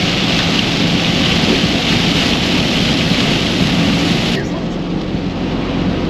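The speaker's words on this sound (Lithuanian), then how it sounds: "Lietutė su sniegu." Rain mixed with snow, heard from a stopped vehicle at a roadside parking area, a loud continuous hiss with wind rumble that drops slightly in level near the end.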